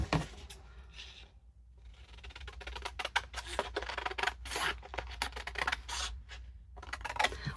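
Scissors snipping through paper while trimming a flip-flop flap envelope, close and quiet, a handful of crisp irregular cuts and rustles over a low background hum.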